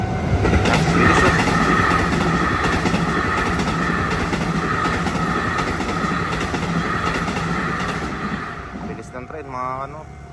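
A train rumbles past close by with rhythmic clattering of wheels over rail joints, loud and steady, then fades as a tonal squeal rises at the end.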